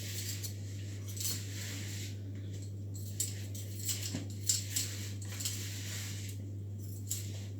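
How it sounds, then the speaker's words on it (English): Spoon or spatula scrapes and clinks against a bowl while dough is mixed, soft irregular taps and scratches over a steady low electrical hum, with no talking. "Try and do as much mixing as you possibly can with your spoon or your spatula first"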